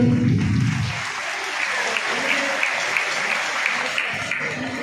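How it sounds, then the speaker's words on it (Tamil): Audience applause at a government awareness programme in Tamil Nadu, a steady wash of clapping lasting several seconds after a brief voice at the start, moderately loud and filling the room. "கைத்தட்டலாமே."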